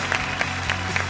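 An audience applauds the young singers at a Voice Kids Thailand battle, a steady wash of clapping with no voices over it.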